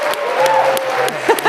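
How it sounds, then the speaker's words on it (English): Brief burst of audience clapping at the RES 2023 event, with a voice sounding over the crowd noise throughout. "I want to hear one more clap."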